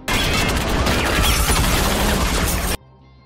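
A sustained burst of loud, dense gunfire with rapid overlapping shots and crashing impacts, cutting off abruptly into near silence.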